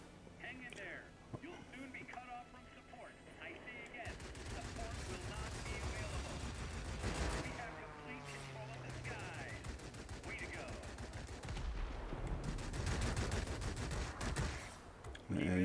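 The guns of an ME 209 V6 fighter plane in the World of Warplanes video game fire in rapid bursts, with short pauses between strings of fire over a continuous engine drone.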